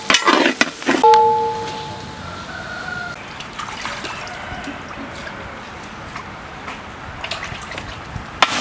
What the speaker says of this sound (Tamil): நாட்டு தக்காளி போட்டுடலாம்.